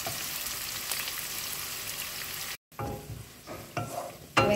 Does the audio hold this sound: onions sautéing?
yes